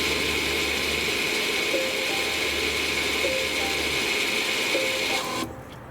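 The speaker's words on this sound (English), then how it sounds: "shortly you will hear the motor working in the back" Electric parking brake motors on the rear calipers of a Volvo XC wind steadily for about five seconds, a continuous mechanical whir with faint periodic ticks, then stop abruptly, leaving near silence.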